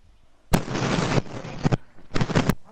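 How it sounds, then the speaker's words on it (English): Suppressed pistol fire in the Fortnite video game: several loud, close bursts with sharp onsets and noisy, hissing tails, clustered irregularly over a few seconds. "My suppressed pistol?"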